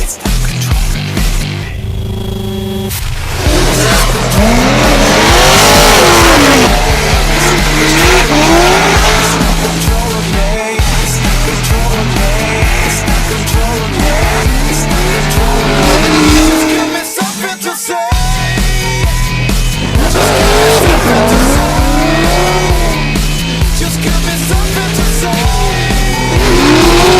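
Drift cars racing at a Formula Drift round at Road Atlanta, with loud roaring engines, rising and falling revs and long tire squeals and skids nearly nonstop, plus a brief drop near the middle.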